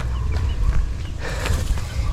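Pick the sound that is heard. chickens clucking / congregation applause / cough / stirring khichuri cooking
chickens clucking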